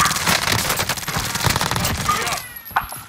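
Rapid automatic gunfire in Call of Duty: Modern Warfare, loud dense bursts of shots crackling continuously for most of the moment before cutting off, followed by a single sharper report.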